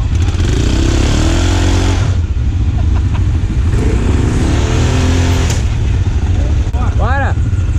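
A quad bike engine revs and roars close by throughout while the rider drifts on a wet dirt track, the drone steady and loud with a few sharper surges toward the end.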